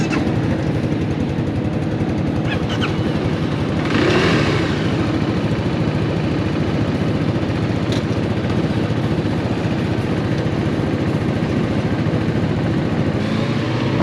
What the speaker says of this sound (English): hop on your bike, start it up